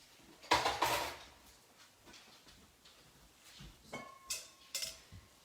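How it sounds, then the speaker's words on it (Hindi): Sago pearls poured into a steel bowl in a home kitchen give a rattling, grainy burst with metallic clinks, followed by quieter scattered taps and rings from the bowl. The sounds are close but soft, with no talking. "ये कटोरी में, ये मैंने स्टील की कटोरी ली है, उसको मैं साबूदाना डाल रही हूँ।"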